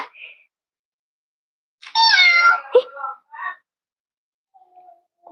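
A cartoon cat in Avatar World lets out one clear, drawn-out meow, followed by a couple of shorter chirpy mews against near silence.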